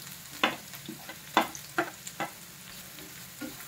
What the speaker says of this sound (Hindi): हाई फ्लेम में इसे 1 मिनट के लिए फ्राई करने के बाद हम इसमें ऐड कर देंगे गाजर